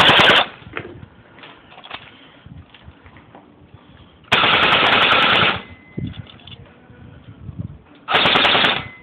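An AKS-74u airsoft rifle firing in three loud, close bursts of rapid automatic shots, each lasting about a second, separated by quieter pauses with faint handling noise.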